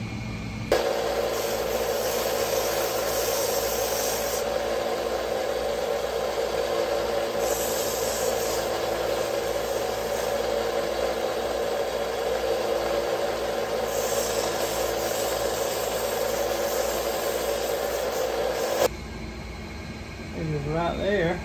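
Sanding a wooden handle on a 1960s Schrade Walden H-15 fixed blade knife, a close, steady scraping rub that runs continuously with a rhythmic back-and-forth pulse, then stops near the end, with no talking over it.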